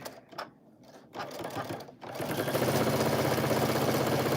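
A sewing machine stitches a 1/4 inch seam: after a few soft handling noises, a steady, loud, rapid mechanical whir starts and runs continuously to the end.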